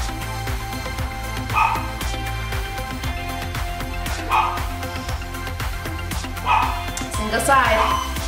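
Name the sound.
dog barking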